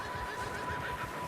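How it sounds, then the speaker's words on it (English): A horse neighs in the open-world western game Red Dead Redemption 2, a steady whinny lasting just over a second over a low rumble of ambient game noise, with no talking. "Sure sounds like there's a horse in there."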